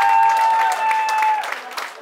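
A crowd claps and cheers in a bar in Varna during an ice bucket challenge event, with the applause strong at first and then gradually thinning out, while a voice talks over it.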